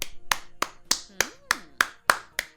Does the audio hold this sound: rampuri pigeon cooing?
no